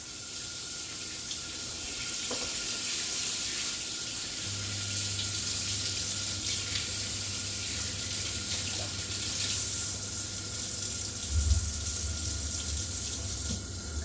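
A kitchen tap runs steadily while hands are washed at the sink, a continuous hiss of flowing water with a brief louder splash near the end.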